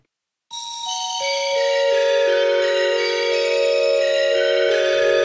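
An Ensoniq VFX-SD synthesizer sounds two layered voices selected from a patch button: a bright, bell-like attack with quickly descending tones settling into a sustained, shimmering held chord, close and loud with no talking.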